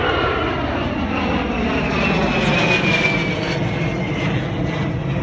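Aircraft engines drone continuously at a busy general aviation airport in Southern California, a loud, steady roar close by with a faint whine sliding across the middle, with no talking.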